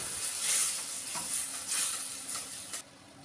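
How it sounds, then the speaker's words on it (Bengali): A wet paste of ground tomato, garlic, ginger, green chilli and whole cumin hitting a hot pan, sending up a loud hissing sizzle that swells in waves and then cuts off abruptly near the end. "এবার সেই বাটা মশলাটা আমি দিয়ে দিলাম"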